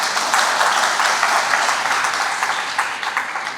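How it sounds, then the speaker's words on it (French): Loud, sustained applause from the audience at a graduation ceremony, a thick uniform roar of many hands clapping without pause. "je vous demande de vous applaudir très chaudement"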